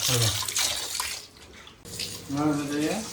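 Water runs and splashes as fish is washed in a home kitchen for a fish curry, steady close washing sounds with voices talking over parts of it.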